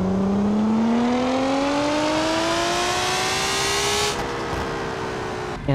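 A synthetic custom car engine sound in Automation/BeamNG.drive drones steadily, its pitch rising slowly as it revs, then levels off near the end.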